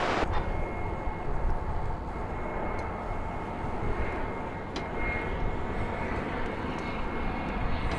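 Airplane arriving at DFW Airport at night, a steady broad jet engine roar heard from a distance, sustained and even throughout with no talking.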